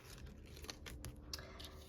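Paper surprise packet being torn open by hand, a quiet series of short crinkly tearing and rustling bursts with no talking.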